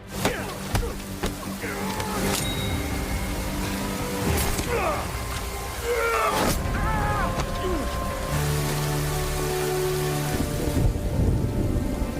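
Steady heavy rain with rumbling thunder in an action-film duel scene, a continuous loud downpour with deep rolls and cracks, while a narrator speaks over it.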